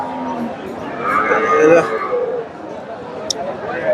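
Dairy cows, including Friesian cows, low at a busy cattle market in Bogura, with a drawn-out moo rising over constant crowd chatter and nearby talking.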